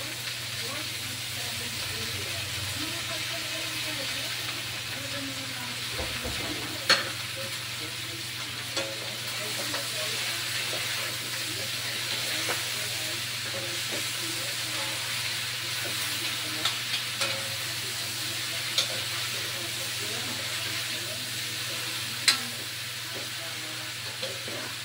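Shredded cabbage fries in a pan for pancit with chorizo de Bilbao, a steady loud sizzle and hiss running throughout with occasional stirring knocks, close and continuous, without talk.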